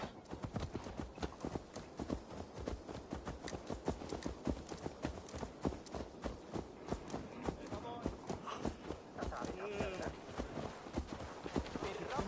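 Horse hooves clip-clop at a steady walking rhythm in Assassin's Creed Valhalla, close and continuous, with game ambience around them.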